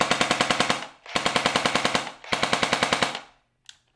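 A G36CV airsoft rifle (black Sportline, LiPo-powered) fires three rapid full-auto bursts of about a second each, loud and close, with sharp regular cracks, brief pauses between bursts and a faint click at the end.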